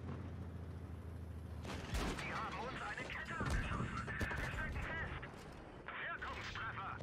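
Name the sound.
tank cannon fire in a tank video game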